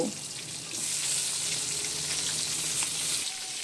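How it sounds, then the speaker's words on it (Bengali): Salted, turmeric-coated eggplant pieces frying in hot oil give a steady, close, loud sizzle that holds evenly throughout, with no voices. "একই তেলের মধ্যে এবারে নুন ও হলুদ দিয়ে মেখে রাখা বেগুনগুলো ভেজে নেব।"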